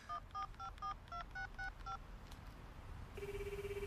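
Telephone keypad tones beep as a number is dialed, eight quick evenly spaced touch-tone presses, followed after a pause by a steady ringback tone.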